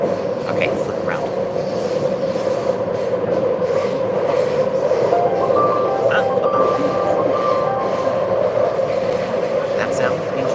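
A high-speed train runs with a steady, loud rumble and rolling roar that holds evenly throughout, with a few faint high tones above it and people talking under it.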